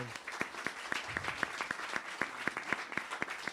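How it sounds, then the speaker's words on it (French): A theatre audience applauds the staff at a semi-final show, producing rhythmic, fairly quiet clapping with regular beats, as if clapping in unison, with faint voices in the background. "On les applaudit bien fort."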